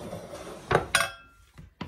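A spoon scrapes and loosens all-purpose flour in a mixing bowl, giving a few short, dry scratchy strokes and light taps against the bowl, close and fairly quiet.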